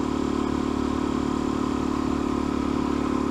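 A Suzuki DRZ motorcycle engine cruises steadily in fifth gear around 4,000 RPM, a constant droning hum with a mechanical clatter, heard close and unbroken without talk.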